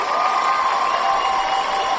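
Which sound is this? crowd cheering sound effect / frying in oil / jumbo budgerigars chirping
crowd cheering sound effect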